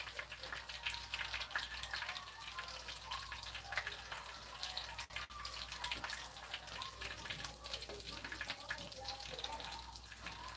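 Parmesan chicken fries in a pan, giving a steady, faint sizzle and crackle throughout for a Sunday dinner. A person talks softly over it.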